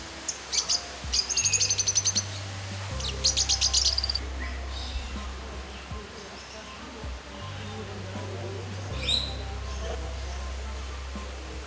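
Birds call at Olmen zoo, which keeps a large collection of parrots: two bursts of rapid, repeated chirping in the first few seconds, then a single faint call later, all over steady outdoor background noise.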